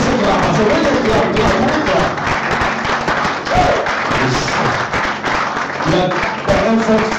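Congregation clapping during worship at a church service, loud rhythmic claps mixed with crowd noise and voices speaking over them.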